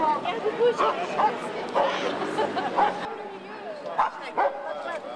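Several dogs bark and yip among a noisy crowd at a dog owners' demonstration, short barks popping out over people chanting and talking nearby.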